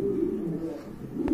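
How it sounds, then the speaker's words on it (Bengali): A pair of pigeons, kept for sale at a Bangladeshi pigeon market, coo in low, throaty, rolling calls that run steadily throughout, close by and moderately loud. "এখানে কিন্তু আরেকটা পেয়ার রয়েছে কবুতরের, খুবই সুন্দর।"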